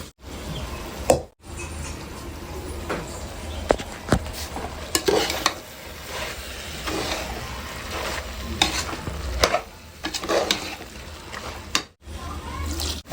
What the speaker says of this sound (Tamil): பச்சை மிளகா, கேரட்டு, பீன்ஸு, உருளைக்கிழங்கு, அதுக்கப்புறம் பச்சை பட்டாணி. இது நல்லா ஒரு 10 நிமிஷம் வதங்கட்டும்.